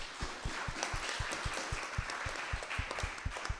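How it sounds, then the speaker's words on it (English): A storytelling event audience applauds in a steady, fairly sparse round of clapping with rhythmic individual claps, moderately distant in the room. "Please give yourselves a round of applause."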